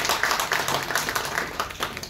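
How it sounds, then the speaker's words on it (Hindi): A class at a coaching institute's student celebration claps for Karishma, a moderate burst of individual hand claps with a slightly uneven rhythm throughout. "एक बार करिश्मा के लिए जोरदार तालियां"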